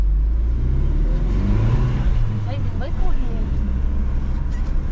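Old, underpowered car engine straining in first gear, a steady close low rumble and drone under an ongoing voice.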